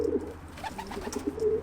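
Homing pigeon breeders cooing in a loft, soft low throaty coos repeating close by with no talk.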